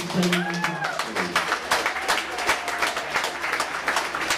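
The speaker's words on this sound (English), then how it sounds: "please let's have a last round of applause for both of these teams" The crowd at a fight night gives a last round of applause for both teams before the decision, a brisk, busy clatter of clapping with a voice speaking over the start.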